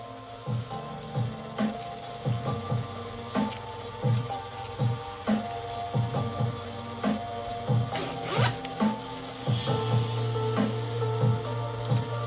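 A bag's zipper is worked open and closed repeatedly, a series of short rasping zips in uneven rhythm, close and fairly loud over a low steady hum.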